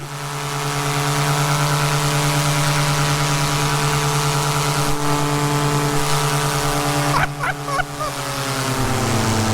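A paramotor engine fitted with nitrous runs at full throttle, a loud steady droning buzz with strong propeller harmonics, held without a break, then sputtering briefly near the end before settling back.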